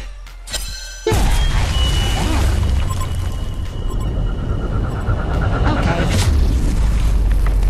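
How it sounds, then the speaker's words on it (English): Tower destruction in the Predator video game, a sudden deep booming blast after a quiet second, then a sustained rumbling, crackling roar with debris-like bursts, loud and close, with a voice speaking over it. "The Hellborn have destroyed a Legion tower."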